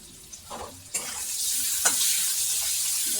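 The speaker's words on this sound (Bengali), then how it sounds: "এবার আমি ডিমটাকে ভাজবো" Eggs frying in a pan for a Bengali egg curry, a steady close sizzle with a few sharper crackles and spits rising over the hiss, no talking.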